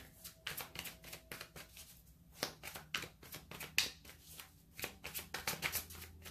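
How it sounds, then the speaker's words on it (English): Tarot cards being shuffled by hand up close, giving a run of quick riffling bursts and flicks in an uneven rhythm, fairly quiet and without any talking. "I hope this shuffling is not extremely loud."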